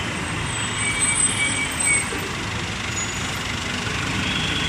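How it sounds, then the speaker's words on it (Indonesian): A regular intercity bus on the Palembang to Kartosuro route idles with a steady engine rumble and broadband hiss, a continuous drone heard at moderate distance with no talk. "Yang ini nanti yang bus reguler Palembang Kartosuro."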